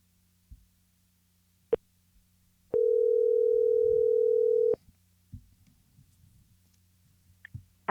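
A steady telephone dial tone holds for about two seconds while a call is placed, framed by sharp clicks and faint background noise before and after.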